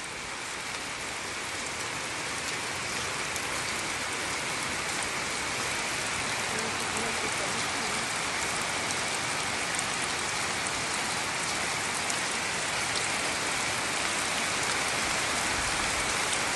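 Steady rain falls on surfaces, producing a constant, dense hiss of patter that holds at an even, moderate loudness throughout with no voices.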